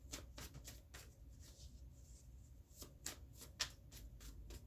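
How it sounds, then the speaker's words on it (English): Tarot cards shuffled by hand in a quiet room, a steady run of soft papery riffles and slaps with a few sharper snaps, close and fairly faint. "And I'm just shuffling"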